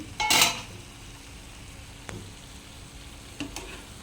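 Bottle gourd, green chillies and tomato fry in a pan for a mint chutney. A low, faint sizzle runs throughout, broken by a loud metallic clatter of lid or spoon at the start and a few lighter clinks later.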